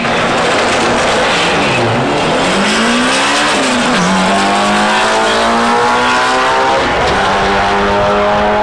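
Turbocharged 1996 Honda Civic drag racing at an import drag meet, engines screaming through rising and dropping gear-change sweeps as the cars launch and pull hard down the strip, loud and continuous with no talk.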